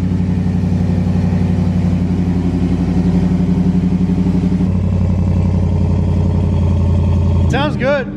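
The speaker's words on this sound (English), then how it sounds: "Let's hit it off. Yeah, cold start." A Chevrolet Camaro ZL1 V8 fires on a cold start with a loud, steady, rumbling idle that drops to a lower settle midway, close by, with voices talking over it near the end.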